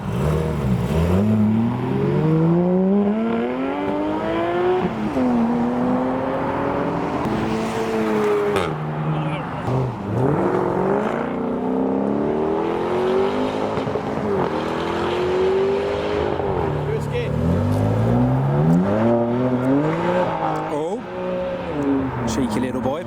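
A hot rod pulls away from a car show, its engine revving through rising and falling gear sweeps, loud and close, with other cars and crowd noise around and people talking over it.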